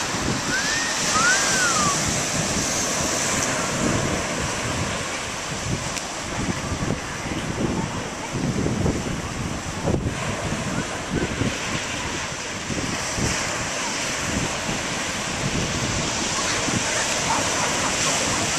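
Steady broadband surf of beach waves rolling in, with wind buffeting the microphone, continuous and moderately loud throughout; a few people talk faintly over the surf.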